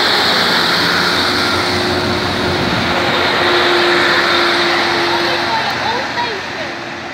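A Class 156 diesel train, unit 156416, rumbles loudly departing platform 1 at West Runton station, with a steady engine drone and a sustained tone, slowly fading as it pulls away.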